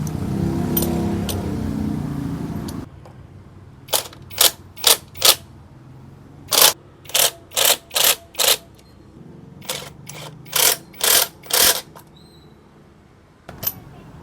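Metallic clicking of a ratchet tool tightening fender bolts on a Honda Beat scooter, quick bursts of three to five sharp clicks separated by short pauses, close and loud, following a few seconds of low rumbling handling noise.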